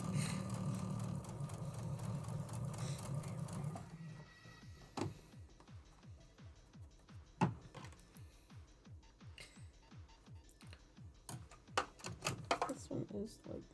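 A home sewing machine stitches seams, first running loud and steady with voices over it, then pulsing in rapid regular bursts with sharp clicks and knocks as fabric bunches under the presser foot.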